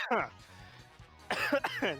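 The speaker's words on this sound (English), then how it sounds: "Is he gonna cough like this every single time" A person coughs, a short harsh burst at the start and another rough cough later, with a quiet pause between.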